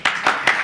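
A stage-drama audience in a Pakistani Punjabi comedy show breaks into brief bursts of clapping, three quick swells of applause within a moment, moderately loud and close, with no talk over it.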